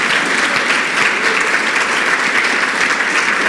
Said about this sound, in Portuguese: Vale um aplauso para esses que têm filhos e netos especiais.